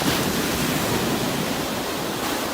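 Ocean waves roll in at Om Beach in Gokarna, a dense, steady wash of surf noise filling the air without any voices.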